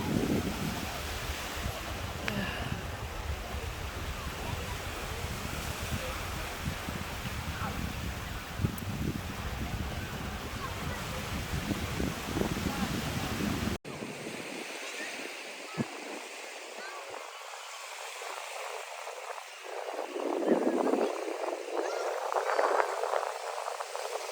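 Sea waves and wind at Durdle Door beach in the UK: a continuous rushing surf wash with heavy wind buffeting the microphone, and a louder surge of breaking water near the end.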